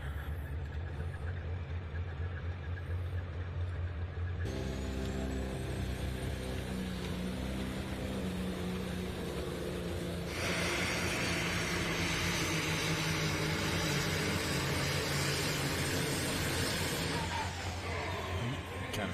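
Loud, continuous roar of an old Mack truck engine straining at a truck pull at the Bowling Green National Tractor Pulling Championships, building in intensity partway through and holding steady at high volume.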